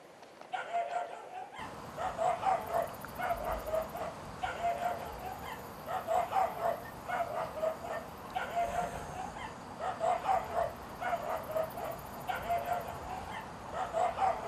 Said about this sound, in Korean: 개 짖는 소리에도 아랑곳 없는데